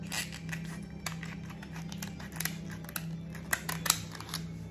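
Repeated sharp snipping and crunching of kitchen scissors cutting through a lobster tail shell, irregular clicks over a faint steady background hum.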